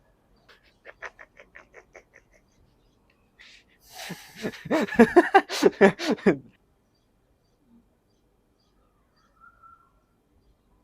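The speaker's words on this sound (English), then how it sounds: "A bird." A bird calls outside with a faint, rapid series of pulsed chirps, then a louder, harsher run of repeated calls lasting a couple of seconds before it falls quiet.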